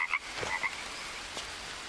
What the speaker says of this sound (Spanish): Ranas.